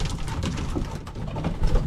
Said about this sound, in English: This is one of our Robertson birds